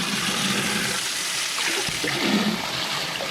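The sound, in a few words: water draining from aquarium tank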